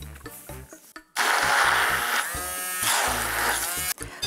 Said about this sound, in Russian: Измельчаю блендером